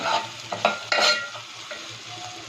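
Snake gourd frying in a pan, a steady close sizzle broken by a few louder scraping stirs near the start, then settling into a quieter, even fry.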